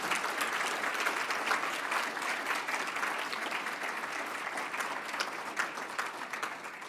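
Sustained, even applause from a conference audience honoring a patient named Ghassan, dense clapping filling the hall steadily from start to finish with no voices over it.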